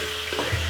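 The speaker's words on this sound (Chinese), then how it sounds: "快炒一下" Sichuan minced pork topping stir-fried with fermented rice wine gives off a steady, dense sizzle with a faint stirring scrape, close and continuous for a brief moment.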